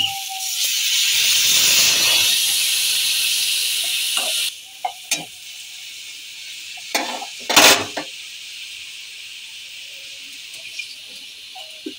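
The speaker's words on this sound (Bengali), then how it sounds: "মশলাটা আমার কষা হয়ে গেছে, এবার আমি জল দিয়ে দেবো।" Water poured into sizzling fried spice masala in a pan for kochu prawn curry, a loud hissing rush that fades after a few seconds, followed by quiet simmering and a few sharp clinks of a utensil.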